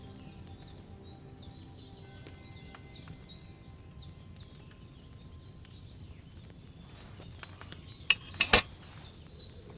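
In the video game Kingdom Come: Deliverance II, a cauldron over a flame gives soft, steady bubbling and gurgling throughout, a low continuous simmer with small pops, ending in a couple of sharper clinks near the end.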